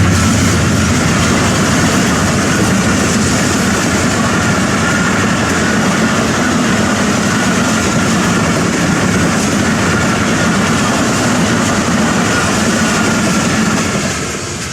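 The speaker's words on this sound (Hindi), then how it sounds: "ट्रेन भी दिखा दी आपको। ये कराची जा रही है जनाब, लाहौर से आई है और कराची जा रही है" A passenger train running from Lahore to Karachi rolls past with a loud, steady rumble and rhythmic clatter of wheels on rails, sustained for the whole stretch and easing slightly at the end, with no voices.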